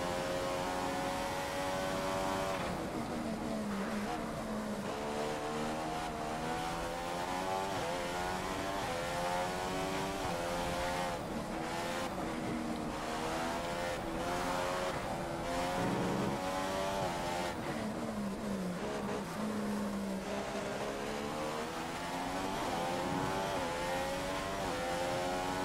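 A Formula 1 race car engine screams through a lap of the Bahrain Grand Prix in the video game F1 2015, climbing and dropping through gear shifts in long, continuous high-pitched revving with no talk.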